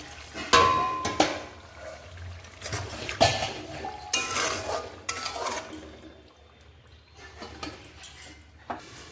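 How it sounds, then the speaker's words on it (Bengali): Hot water is added to chicken cooking in a pot and a lid is put on, with scattered metallic clanks of pot and utensils and a light splash of liquid, close and moderately quiet. "এবার আমি সামান্য গরম জল দিয়ে চিকেনটাকে সিদ্ধ করে নেব ঢাকা চাপা দিয়ে"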